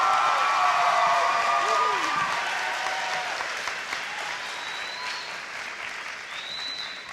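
A large audience at the 2017 Delta High School graduation applauds to welcome faculty speaker Mrs. Sarah Pack, a dense, sustained clapping that slowly thins and softens over several seconds.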